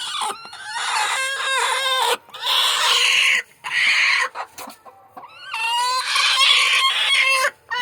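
Two chickens, hens and a rooster, cluck and squawk loudly and close by in repeated bursts separated by short pauses.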